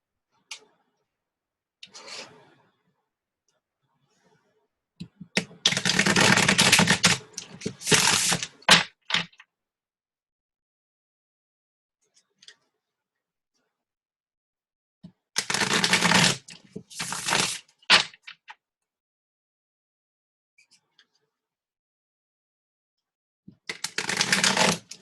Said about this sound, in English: Do a rifle shuffle here really quick.